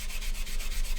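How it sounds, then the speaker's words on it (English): A sander smoothing styrene filler on an Airfix 1/72 Vulcan plastic model kit, heard as a close, steady rasping rub with a rapid even back-and-forth pulse and no voices. "back in with the sander, clean up work"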